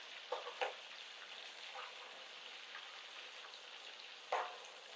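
Chicken frying in hot oil gives a faint, steady sizzle with a few brief crackles and pops, heard alone without talk.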